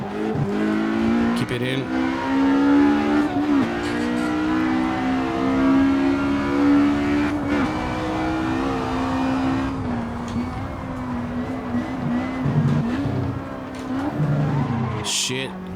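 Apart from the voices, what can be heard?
vintage race car 4-cylinder engine screaming, sim racing video game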